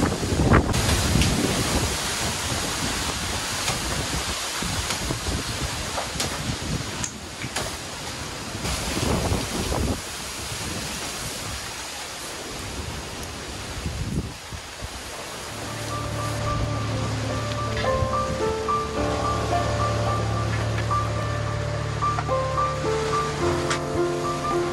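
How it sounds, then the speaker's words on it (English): Strong gusting wind roars and buffets the microphone during Super Typhoon Rai in the Philippines, with loud irregular surges, followed by a steadier windy rumble with faint tonal sounds. "And the wind is blowing a lot in this side."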